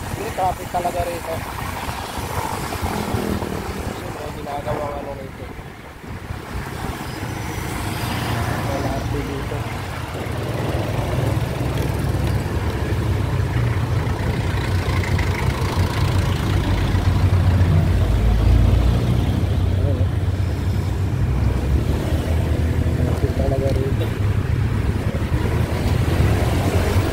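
Steady street traffic rumbles close by with engines idling and passing vehicles, a continuous low drone that swells toward the end, while someone talks over it.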